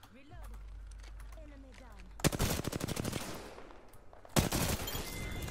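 Sudden loud bursts of rapid automatic gunfire from Apex Legends cut in twice after a quiet stretch with a voice talking, each burst a dense rattle of close shots.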